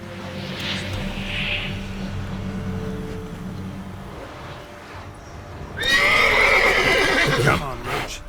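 Roach, a horse in The Witcher 3, lets out a loud, close whinny near the end, preceded by hoof clatter and game ambience, with a voice talking earlier.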